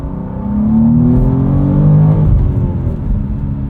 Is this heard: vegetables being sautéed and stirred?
no